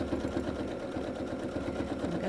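Sewing machine stitching steadily during free motion quilting around the edge of an appliqué, a continuous fast rhythmic mechanical whir heard close and alone.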